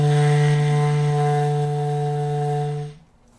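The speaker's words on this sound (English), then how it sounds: "Let's just play that first note, the E, for a whole note." A bass clarinet holds a single low E as a whole note, a steady, rich reedy tone that sustains evenly, then stops cleanly into near silence.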